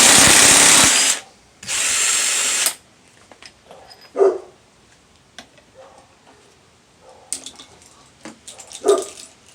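Impact gun loosening a bolt on a Subaru WRX/STI engine during head gasket work: two loud bursts of whirring hammering, then a quiet garage with a few clanks and tool knocks.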